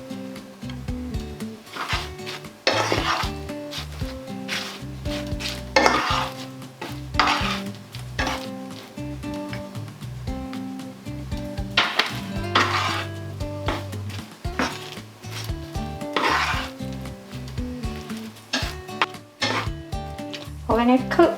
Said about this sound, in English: We're going to cook the sauce in for a minute or two